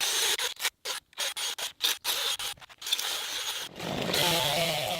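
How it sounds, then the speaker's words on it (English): A power drill bores into a burned tree stump in short, loud grinding bursts separated by brief pauses, then settles into a longer continuous rasping run; no talking. "Now, time to get out the drill."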